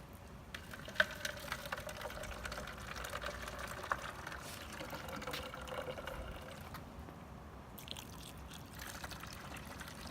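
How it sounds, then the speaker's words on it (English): Water poured from a container onto bare soil trickles faintly and steadily for several seconds, a soft, low, close, continuous splashing pour. "I'll be demonstrating what happens when you pour water onto bare ground"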